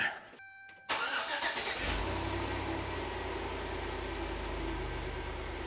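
Chevrolet Tahoe engine starting after a front differential rebuild: a short starter crank, then the engine catches and settles into a steady, close idle hum.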